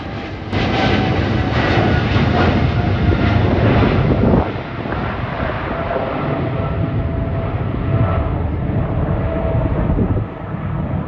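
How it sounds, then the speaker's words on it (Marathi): An airplane coming in to land near Heathrow Airport, heard from a road: a loud, continuous engine roar and rumble overhead, steady throughout and mixed with wind noise on the microphone, with no talking. "हिथ्रो ते वटेन प्लेन देंवपाक लागला"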